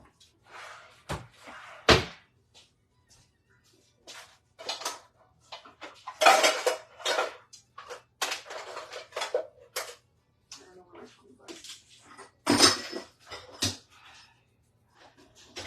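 Metal kitchen utensils clatter and clank close by as someone rummages through a drawer for frying tongs, with irregular bursts of jangling and a couple of sharp knocks separated by brief quiet gaps.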